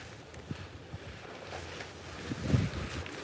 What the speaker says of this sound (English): Real windy out here today